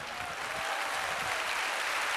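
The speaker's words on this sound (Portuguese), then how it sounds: "Você pode dar um aplauso a Ele." A church congregation at a Baptist morning service applauds, a dense, sustained wash of clapping filling the room, steady and loud from start to finish with no voices over it.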